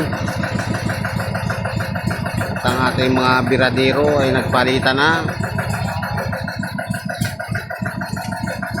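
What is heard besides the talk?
boat engine running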